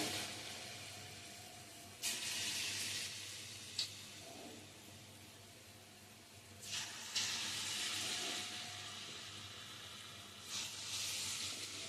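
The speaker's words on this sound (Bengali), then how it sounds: "তো দেখো বড়াগুলো ভাজা হচ্ছে।" Lentil fritters (bora) frying in oil on a gas stove, a faint low sizzling hiss that swells in several louder bursts as batter drops in or is stirred, with no speech.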